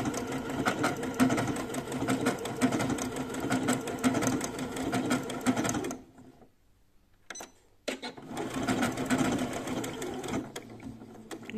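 A Janome sewing machine runs overlock stitches along the edge of fabric, its rapid rhythmic whirring steady and close, stopping for about two seconds of near silence before resuming.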